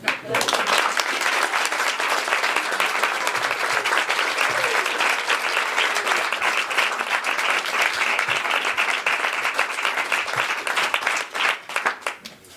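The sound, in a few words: applause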